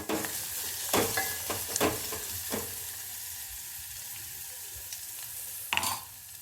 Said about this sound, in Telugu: పసుపు లాస్ట్లో వేసుకోవాలి ఎప్పుడైనా వేసుకున్నాక కొంచెం ఆయిల్లో మగ్గాలి